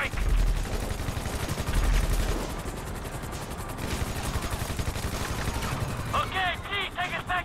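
Rapid bursts of gunfire from the GTA 5 video game crackle over a busy mix of game sound effects and engine drone, with chirpy electronic beeps near the end.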